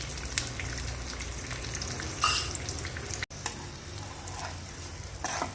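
Whole spices and turmeric powder tempering in hot oil, a steady close sizzle with stirring and a couple of louder spitting bursts, no talk.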